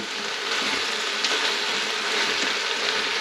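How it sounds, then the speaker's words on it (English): Potatoes sauté in a pot with a steady, close, bright sizzle of frying that stays even throughout, with a faint clink or stir now and then. "Now we want to get our potatoes a little sauteed"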